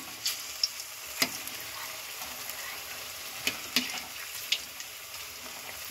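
Food fries in a pan with a faint, quiet sizzle broken by scattered sharp pops and crackles at irregular intervals.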